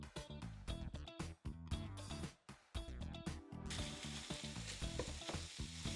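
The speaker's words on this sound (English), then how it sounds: "you're just gonna want to break up all of the meat in the pan" Ground taco meat fries loudly in a pan while being broken up, with rapid repeated scraping and knocking of a utensil over a dense sizzle that steadies into a continuous hiss partway through.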